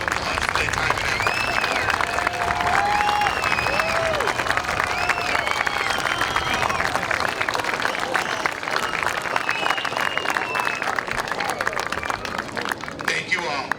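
Audience applause for youth baseball board members at an opening day ceremony, sustained dense clapping with crowd murmur and a few cheers, loud and steady throughout before thinning slightly at the end.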